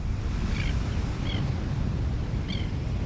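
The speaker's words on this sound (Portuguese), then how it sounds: "Com as marés, a água constantemente vai e vem nas poças nas rochas." Tidal water washing steadily in and out of rock pools on an African shore, a broad, even wash of surf and sloshing with no pauses, faint high bird calls drifting over it a few times.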